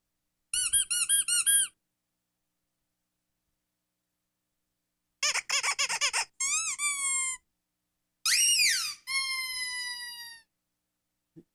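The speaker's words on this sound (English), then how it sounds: "I've got an app, and it's squeaky toy sounds" Squeaky toy sounds play from a phone app in short, high squeaking bursts: one brief burst, a pause, then two closer clusters of squeaks separated by silence, fairly loud and clear with no talking.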